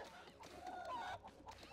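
Chickens clucking in the action video game The Mighty Quest For Epic Loot, faint repeated squawks and clucks over quiet game noise.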